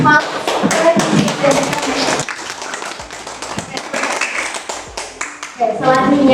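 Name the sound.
applause for the presenter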